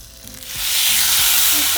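A steak hits a hot skillet on medium-high heat and bursts into a loud, steady sizzle that swells within a second and holds, close up.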